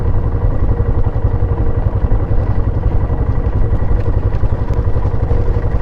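A motorcycle engine runs steadily and loudly throughout in Mongolia, a continuous low rumble with a dense, even throb and no pauses.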